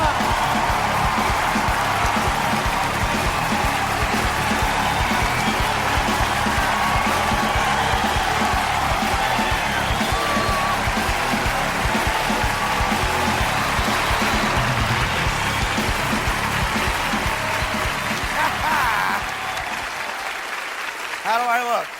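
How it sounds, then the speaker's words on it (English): A comedy club audience applauds and cheers loudly for comedian Artie Lange, a dense, steady wash of clapping with scattered whoops lasting about twenty seconds before tapering off near the end. "give a nice round of applause"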